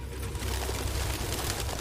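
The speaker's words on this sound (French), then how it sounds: "Aucun humain ne pourrait vivre avec autant de pigeons." Pigeons coo in the video game Detroit: Become Human, soft repeated low coos over a steady hum of city ambience, brief and continuous.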